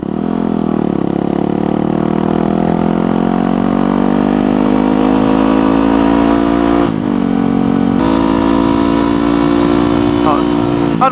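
A manual-shift motorcycle engine on the road drops from third into second without added throttle, so the engine brakes: a loud, steady drone that rises gently in pitch and breaks briefly at the shift, with a rider talking over it.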